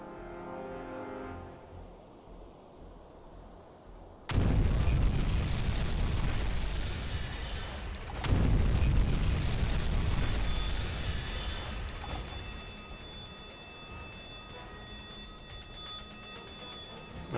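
Torpedo hits explode against a ship in a U-Boat submarine game: a low hum, then a sudden massive blast at about four seconds and a second heavy detonation around eight seconds, each followed by long rumbling roars that fade into a droning tone.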